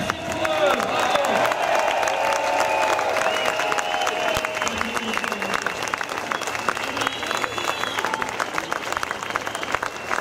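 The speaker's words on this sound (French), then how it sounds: "Applaudissez-les, merci pour eux." A crowd at an outdoor anti-pass rally outside the French National Assembly applauds caregivers, with dense steady clapping and cheering running throughout, voices and shouts mixed in.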